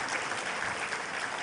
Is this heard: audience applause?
yes